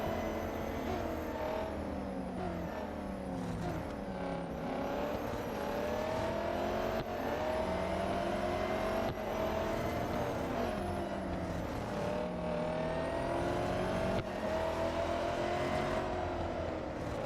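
Electric race car in the Real Racing 3 mobile racing game, a continuous whining electric drivetrain note that rises and falls with acceleration through a close race, loud and unbroken, with pitch sweeps at each gear-like surge.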